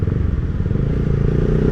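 Honda CBR150R motorcycle engine with a quick-action throttle, a loud, steady, low rumbling idle-to-rev drone close up, alone without speech.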